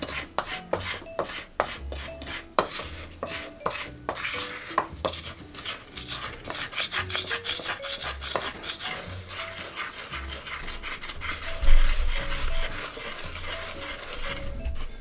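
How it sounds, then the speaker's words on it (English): A spoon stirs thick ginger oat cookie dough with stem ginger in a bowl, making repeated scraping and rasping strokes and occasional clinks against the side, at a steady rhythm close by. "When you're stirring this in, just make sure that you got everything mixed in."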